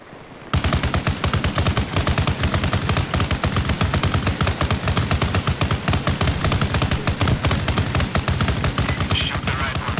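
Sustained rapid automatic fire from a BTR gunner hitting a target, loud and close, a steady unbroken stream of rounds lasting nearly ten seconds after a brief quiet start.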